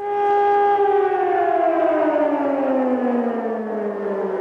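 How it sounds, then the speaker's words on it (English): Air raid sirens in Israel during the 1991 Gulf War: a loud, sustained civil defense wail whose pitch slowly falls over about four seconds. "the sounds of air raid sirens."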